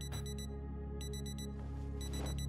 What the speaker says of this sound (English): it's one of these watches here that's got an alarm set.